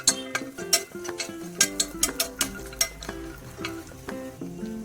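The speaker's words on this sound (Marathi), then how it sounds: "खोबरं टाकून घ्यायचं व तळून घ्यायचं." Grated dry coconut fries in a pan for puran poli, a soft sizzle under repeated rhythmic scraping and clinking of a spoon stirring against the metal, close and steady.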